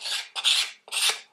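Three rasping strokes of 120-grit sandpaper across a waxed, milk-painted wooden board, steady back-and-forth scrubbing close up with short pauses between passes.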